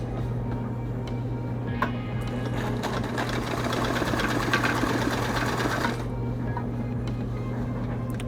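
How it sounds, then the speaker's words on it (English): A sewing machine stitches denim, a fast steady mechanical whirr with rapid ticking that grows busier in the middle, close and continuous before easing back to a lower hum. "I'm gonna throw one more stitch on this."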